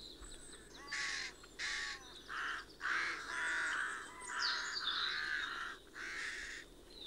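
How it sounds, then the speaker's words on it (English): A fieldfare calls in the early morning while foraging, giving a series of harsh, chattering calls in repeated bursts with short gaps, fairly near over quiet outdoor background. "A fieldfare is looking for its first meal of the day"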